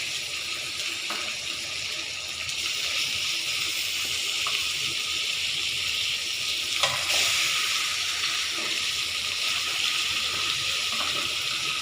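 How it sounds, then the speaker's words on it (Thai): Pork belly being stir-fried in a pan, a loud continuous sizzle filling the whole stretch with occasional louder bursts as the meat is tossed. "เราก็จะเอาหมูที่เราเตรียมไว้ลงมาผัดนำกัน"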